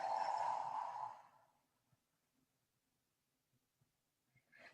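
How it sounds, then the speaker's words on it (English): A long, forceful exhale during a guided breathing exercise in a Tai Chi-style practice session, a loud airy rush lasting about a second before fading into near silence with a few faint soft sounds. "And exhale."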